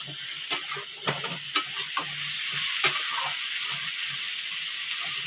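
Pumpkin and potato pieces frying in a pan give a steady close sizzle, broken by a few brief clinks or stirring knocks.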